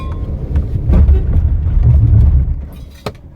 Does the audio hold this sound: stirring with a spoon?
no